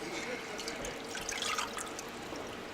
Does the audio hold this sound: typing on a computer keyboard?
no